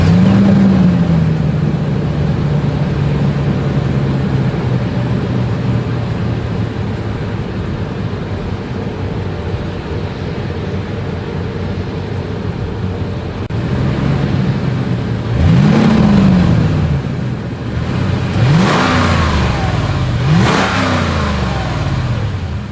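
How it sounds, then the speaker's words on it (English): A 2022 Lexus GX 460 SUV exhaust idles steadily, then is revved several times near the end, each rev rising and falling sharply, loud and close with no talk. "As always, here is that exhaust clip."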